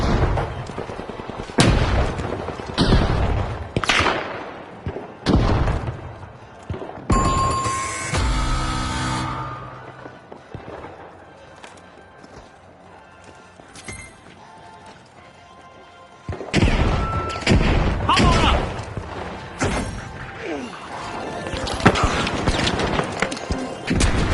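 Frag grenade blasts and gunfire ring out in the video game The Finals, with a run of sharp booms and thuds, a quieter stretch in the middle, then a renewed flurry of explosive hits.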